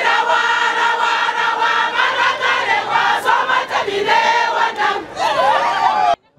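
Jubilant crowd welcoming Governor Caleb Mutfwang in Jos amid rainfall, a loud continuous roar of cheering and shouting voices, dense and close throughout.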